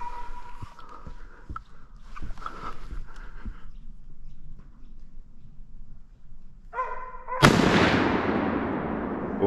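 A single loud rifle shot cracks out near the end during a wild boar hunt in woodland, a sharp blast with a long decaying tail, preceded by quieter rustling and a few faint knocks.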